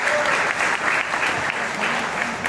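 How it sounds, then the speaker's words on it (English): Applause from the audience at a sickle cell awareness gala, dense and steady throughout with a faint hint of voices underneath. "Give a round of applause to yourself."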